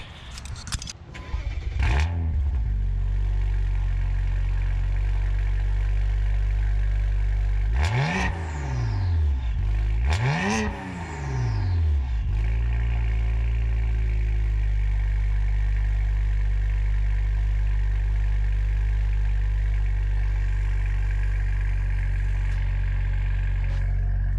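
A BMW 335 with a custom Flowtech Raptors exhaust idles with a steady, deep rumble, broken by two quick revs around the middle before settling back to a smooth, loud, constant idle.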